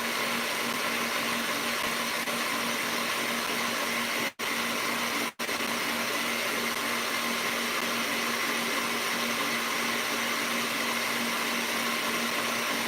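A loud, constant electric mixer motor whine drones on steadily while whipping vegan marshmallow, the motor straining near burnout, cutting out briefly twice before resuming at full strength.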